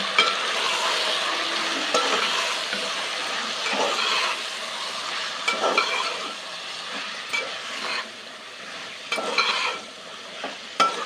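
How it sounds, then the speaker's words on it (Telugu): Masala curry with chicken and beans being stirred in a pan, with a continuous soft sizzle and frying hiss broken by repeated scraping strokes of the spoon at an unhurried, irregular pace. "చూడండి మసాలా అన్నీ మనకు కలిసిపోయేంత వరకు ఇలా కలుపుకోవాలి"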